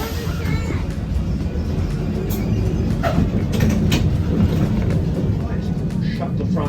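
A tram rolls through Christchurch with a steady, loud low rumble of wheels and motor throughout, occasional clatters and rattles inside the car, and a voice talking over the ride.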